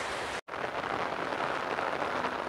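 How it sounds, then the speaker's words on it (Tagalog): Heavy storm rain pours in a steady, dense roar at a memorial park, loud and continuous apart from a brief cut near the start. "Yan, lakas ang ulan."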